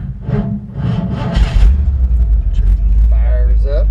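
A 1966 Ford F100 pickup with a 302 V8 cranks and fires up, settling into a loud, steady low rumbling idle after a brief burst of nearby talk.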